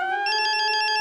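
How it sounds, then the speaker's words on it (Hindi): A phone ringtone for an incoming video call sounds, a bright repeating electronic melody pulsing quickly for about a second, clear and close with no voices. "अंजलि का वीडियो कॉल"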